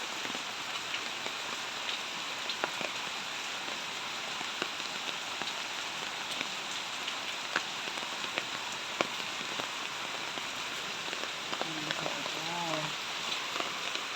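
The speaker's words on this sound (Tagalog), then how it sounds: "Lumalakas na talaga ang ulan." Heavy typhoon rain falls steadily on surfaces and plants outdoors, a dense hiss of drops with occasional louder splats, close and continuous.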